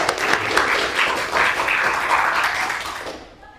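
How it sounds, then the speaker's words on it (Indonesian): A classroom of students applauds a classmate's answer, with dense, continuous clapping that holds steady for several seconds before cutting off, close and fairly loud. "Kasih aplaus buat temannya"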